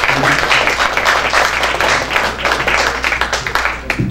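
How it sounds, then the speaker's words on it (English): Enthusiastic applause fills a comedy club as a comedian is welcomed on stage, a loud, close, dense clapping from the crowd. It thins into scattered claps near the end. "Thank you for that enthusiastic applause."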